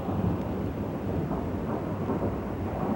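Thunderstorm rumble with rain, a steady low roar of thunder and wind that stays loud and continuous without clear breaks, no voices present.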